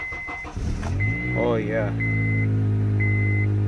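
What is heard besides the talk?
car engine starting with new Eliminator Ultra AGM battery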